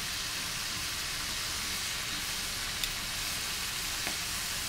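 French fries frying in hot oil, a steady dense crackling sizzle that runs throughout at even loudness, with a couple of faint clinks and no talk.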